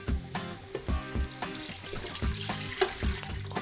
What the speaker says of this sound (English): Add the broth now.